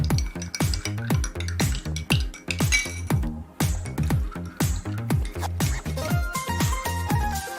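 Two ingredients are mixed together in a container, giving a rapid run of sharp clinks and knocks from a utensil against the vessel, busy and close, with no talk.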